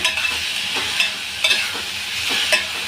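Masala for sambar frying in a pan, a dense steady sizzle with soft periodic stirring strokes, close and loud, no voices present.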